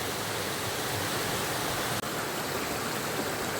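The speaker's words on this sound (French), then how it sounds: "L'eau, elle sort de partout, là." Water rushing along a creek bed, a loud, continuous broadband gush heard close up with no pauses or voices.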